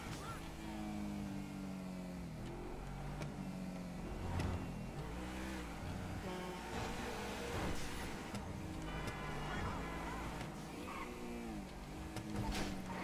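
Car driving in GTA V, a steady engine hum with shifting revs that rise and fall throughout, mixed with in-game music and ambient sounds, with a voice speaking over it.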